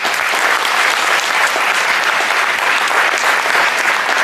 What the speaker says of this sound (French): Je vous demande d'applaudir très fort Tania Kassamchenay.